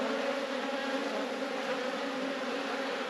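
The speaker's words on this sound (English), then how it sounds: "There's plenty of bees with pollen on them." Honey bees at an open hive with a brood frame pulled, many carrying pollen, hum in a dense, continuous drone, steady and close.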